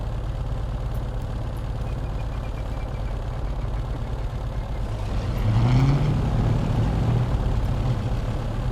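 Twin piston engines of a P-38 Lightning in a flight simulator crank and idle with a steady low drone, and a second engine catches about halfway through, making the rumble louder and adding a rising tone.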